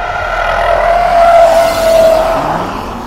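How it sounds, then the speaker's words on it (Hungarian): A race car, either fully electric or hybrid, scrubbing its tyres through long sweeping corners on a timed lap, a loud sustained whine and hiss of rubber grinding across the tarmac, holding steady for several seconds before easing. "Azért a nagyobb ívű kanyarokon hallatszik, hogy ott azért darálja le a gumit magára."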